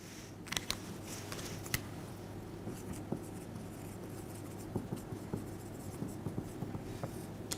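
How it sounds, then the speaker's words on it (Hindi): Pen writing by hand on paper during a biology lesson on gymnosperms, steady faint scratching strokes with small taps, close and quiet with no talk over it. "तो इसको भी यहां पे लिख लेते हैं।"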